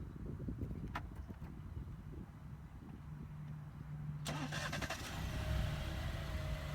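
A 2017 Alfa Romeo Giulia sports sedan starts up by remote start, its engine catching partway through with a sharp crank and then settling into a steady idle.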